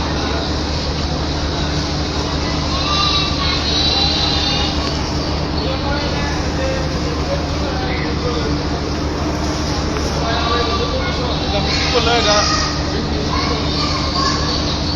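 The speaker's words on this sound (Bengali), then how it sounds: "কিশোরগঞ্জমুখী কিশোরগঞ্জ এক্সপ্রেস ট্রেনটি ছেড়ে যাবে" The Kishoreganj Express stands at Kamalapur railway station in the morning, giving a loud, steady engine hum and rumble over busy station noise with voices in the background.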